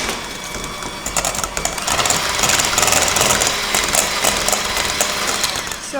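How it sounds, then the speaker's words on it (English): An electric hand mixer whips egg whites with cream of tartar in a clean bowl, giving a steady, loud whirring buzz with rattling against the bowl that runs throughout without speech. "So with beating with the egg whites, you want to make sure your bowl and the mixer is very clean."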